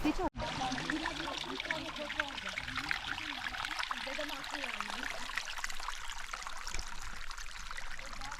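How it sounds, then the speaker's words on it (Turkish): A small mountain stream trickles and flows steadily in the open, a continuous broadband wash throughout, with a person speaking over it. "Bu su sesi geliyor."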